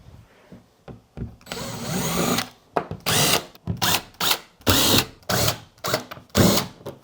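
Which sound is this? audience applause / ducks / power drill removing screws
power drill removing screws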